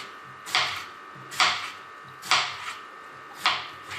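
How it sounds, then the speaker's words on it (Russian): A knife cuts onion into thin half-rings for shashlik, making four evenly spaced crisp chopping strikes on a board about one second apart, close and alone. "Лук режем тонкими полукольцами."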